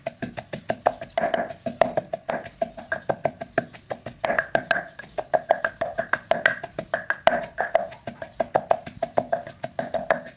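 Steady rhythmic pounding of chili paste with a pestle in a mortar, dozens of firm thuds in quick succession, close and alone without talk.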